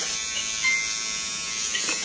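Electric trimmer with trimming, nose and cutter heads, running as a steady, close, high-pitched buzz that barely varies for about two seconds, with no one talking.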